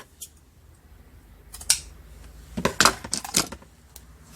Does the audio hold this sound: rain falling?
no